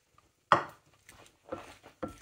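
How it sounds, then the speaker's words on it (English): Raw shrimp dropped onto a Blackstone griddle into oil and butter and tossed with a spatula, giving a loud first sizzle followed by shorter scraping, clattering bursts. "And just toss them around so they're fully coated"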